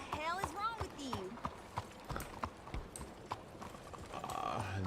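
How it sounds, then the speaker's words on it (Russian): Rhythmic horse hoofbeats clip-clop at a steady trot in Red Dead Redemption 2, mixed with game sounds and a brief rising tone, fairly close and moderately loud. "Да я просто на лошади езжу"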